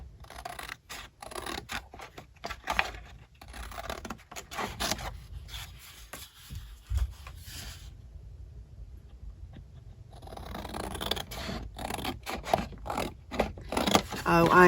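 Scissors cut out paper for a nature journal in close, irregular bursts of snipping and rustling, with a quieter pause in the middle.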